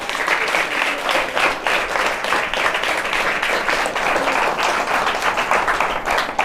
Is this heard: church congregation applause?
yes